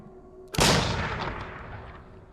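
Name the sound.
gunshots in the video game Layers of Fear 2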